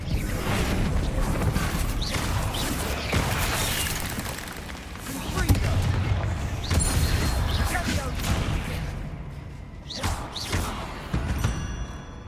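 Spell combat in Hogwarts Legacy: a dense, continuous barrage of magical blasts, booms, thuds and whooshing casts, with crashing impacts, tapering slightly toward the end, with voices mixed into the fight.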